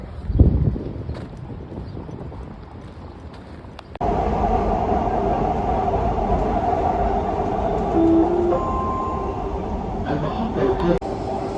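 A Dubai metro train rumbles steadily past, with a sharp rise in noise partway through and faint tonal whines over the rolling hum.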